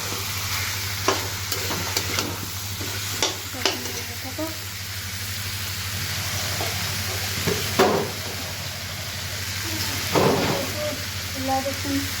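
Food frying in a little oil in a pan, a steady soft sizzle with occasional stirring clinks and scrapes, close by, with a low hum underneath.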